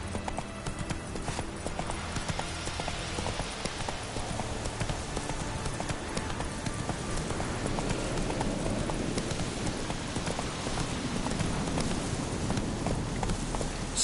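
Horse Roach's hooves clip-clop steadily in the video game Witcher 3, a continuous close walking rhythm that grows slightly louder toward the end.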